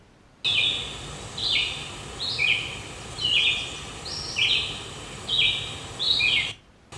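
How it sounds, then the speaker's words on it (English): An agitated bird repeats short, harsh paired call notes at steady intervals, about eight calls over several seconds, fairly loud against a quiet outdoor background hiss with no voices. "There's one aggressive bird."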